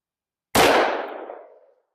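A single loud, sharp gunshot from a 5-inch 1911 pistol firing 40 Super DoubleTap 135-grain ammunition, cracking out of silence and ringing down over about a second.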